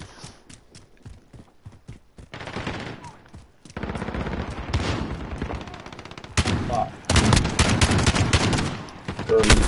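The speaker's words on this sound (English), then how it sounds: "This shotgun is so shit." Gunfire from a shotgun in a Call of Duty Modern Warfare search and destroy match: rapid sharp shots and clustered bursts that grow louder and denser toward the end, with footstep-like clatter between volleys.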